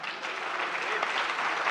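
An audience at a poetry recital (mushaira) breaks into steady applause as the Kashmiri poet Shozaib Kashir is welcomed on stage, brief and fairly loud with dense overlapping claps.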